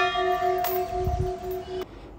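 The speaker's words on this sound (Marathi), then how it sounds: "मिस्टर घंटी वाजवत होते बघा." A heavy metal temple bell at a large Ganesh temple rings with a bright, sustained tone that hums on until it is abruptly damped, with soft background noise around it.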